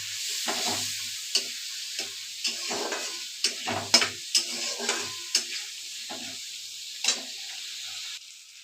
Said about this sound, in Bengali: মশলাটা তো ভালোভাবে কষিয়ে নিচ্ছি, দেখো তেল ছেড়ে দিচ্ছে মশলার থেকে।